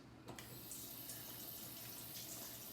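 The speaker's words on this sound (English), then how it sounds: "Let's just rinse my hands off." Water from a kitchen tap runs in a steady, soft stream as hands are rinsed beneath it, a brief splash near the start and no voices.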